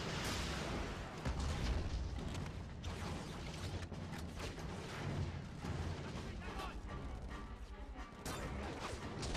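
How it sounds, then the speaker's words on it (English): Grenade launcher explosions in the shooter game Black: repeated muffled booms and crashing blasts amid gunfire, fairly quiet overall, with a voice talking over the action. "this grenade launcher is just kicking ass left, right, and center"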